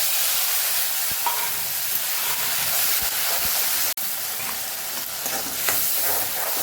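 Grated tomato hitting hot oil already seasoned with cumin and asafoetida, giving a steady loud sizzle and hiss throughout, with a faint stir or scrape now and then and no talking.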